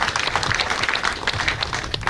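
An audience at the launch of a Makueni ATC college applauds, brisk sustained clapping from many hands, close and lively throughout.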